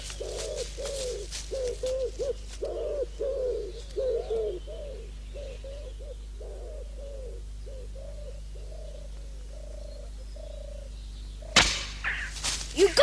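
Pigeon cooing in repeated soft, rhythmic phrases, close by and steady for most of the stretch, then cut off by a sudden sharp burst of noise near the end.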